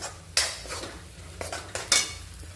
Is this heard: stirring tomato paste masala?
yes